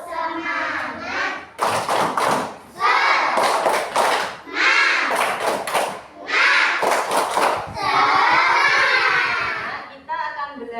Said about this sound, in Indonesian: Tambah semangat lagi, kita tepuk semangat bersama-sama ya.